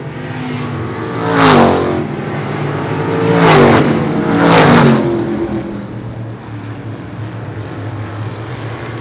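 Race cars on a super short track circuit, engines roaring past in three loud swelling passes over a constant droning background of other cars circling, no talking.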